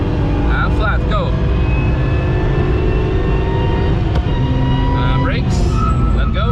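BMW 1M engine pulling hard at full throttle on the Nürburgring, a loud, constant in-car roar with rising and falling whine as it revs through, recorded up close with no breaks.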